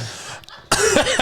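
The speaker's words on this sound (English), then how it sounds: "Can't stop coughing." Harsh bursts of human coughing start abruptly after a quiet stretch, a loud, close fit of several hacking coughs running together.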